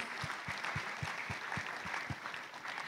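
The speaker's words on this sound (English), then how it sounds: "let us give them a big round of applause" An audience at a business talk on efficiency and recession applauds its speakers, a crisp, continuous patter of many hands with a steady low thump beneath, no talk heard.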